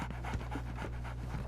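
A dog in a Sherlock Holmes game pants quickly and steadily, close by, over a low ambient hum.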